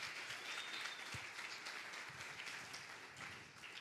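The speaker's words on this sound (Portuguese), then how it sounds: "Aplauda Jesus, irmãos." A church congregation gives a soft, steady round of applause, many hands clapping at a distance, easing off toward the end.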